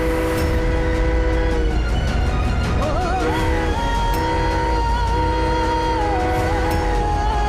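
A train approaching on a railway line, a loud continuous rumble of wheels on track with a long sustained horn blast that wavers in pitch, close and dominant throughout.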